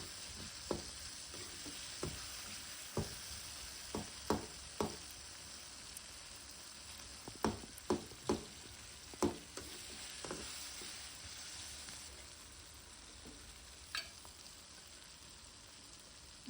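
Onion and tomato sautéing in a pan for a Tamil karakuzhambu, with a continuous gentle sizzle broken by sharp clicks and scrapes from stirring, close up and with no talking.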